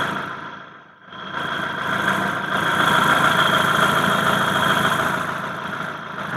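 A 2015 Hyundai i10 Sportz car engine idles steadily with a smooth, even hum at close range, dipping briefly near the start before settling into a constant drone, with no talking.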